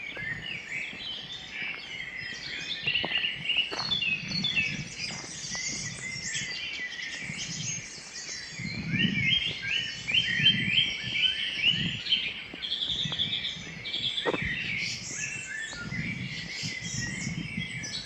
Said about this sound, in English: Got 2 blackbirds here singing either side at the moment as well.